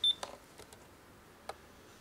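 A short, high electronic beep from an MPF-1-P Z80 microcomputer at the start, then a few faint soft clicks in a quiet room.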